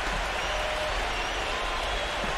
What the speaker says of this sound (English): Can you hear the crowd kind of murmuring?